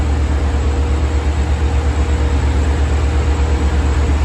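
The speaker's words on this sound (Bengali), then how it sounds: "এখানে একটা ট্রেন আসছে" A train pulls into Jamaica station in New York, a steady loud low rumble and rolling roar that holds constant throughout with no voices over it.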